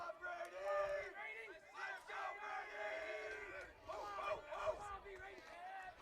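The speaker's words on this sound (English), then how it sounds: "Brady has quite the cheering section behind me." A crowd cheers at a high school baseball playoff game, with voices shouting and whooping in bursts close by. The cheering section's yells rise and fall repeatedly without pause.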